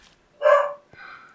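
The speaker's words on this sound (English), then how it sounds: "Barking at random people out in the driveway." A single loud bark from a dog reacting to people in the driveway, followed by a softer, higher whining yip, nearby in a quiet indoor space.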